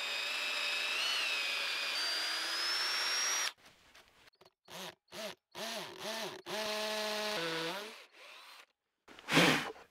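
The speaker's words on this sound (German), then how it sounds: "Das Ganze werden wir mit dem Akkuschrauber vorbohren" Cordless drill pre-drilling holes into a log for a six-metre bushcraft bench, a run of short whirring bursts that spin up and wind down, each a few seconds apart, close and loud, after a steady high whine at the start.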